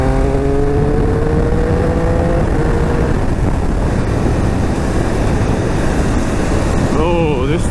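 A Triumph Speed Triple 1200 RS motorcycle being ridden, its engine droning loudly and steadily with shifting pitch beneath heavy wind rush, recorded close from the rider's position.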